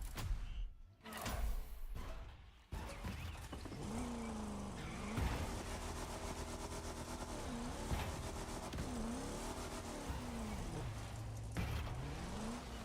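Muscle car fitted with oversized monster tires driving in The Crew Motorfest, a steady engine drone with shifting revs and pitch dips as it accelerates and shifts, loud and continuous after a brief rough start, no talk.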